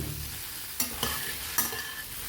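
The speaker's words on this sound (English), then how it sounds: "Heat a tablespoon of ghee or oil and just quickly fry the prepared nuggets till they get a light color on them." Soya nuggets fry in ghee or oil in a pan with a steady moderate sizzle, broken by three sharp scraping strokes as they are stirred.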